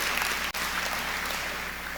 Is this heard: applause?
yes